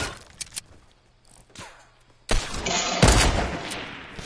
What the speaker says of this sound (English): Teammate shooting at me.